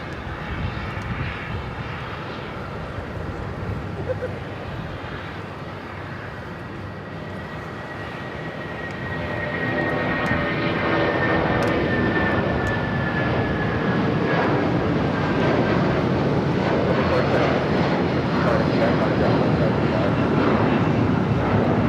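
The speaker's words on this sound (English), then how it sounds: "United 757 taking off here on the south side." A United Boeing 757 takes off from the south side at Los Angeles airport, the jet roar swelling from a moderate rumble into a loud, sustained thunder with whining engine tones sweeping across.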